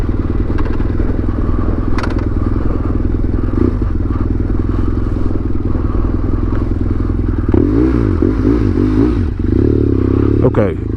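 A 2007 BMW F800ST motorcycle engine rumbles steadily and close throughout, with occasional rev changes and wind noise as it rides along.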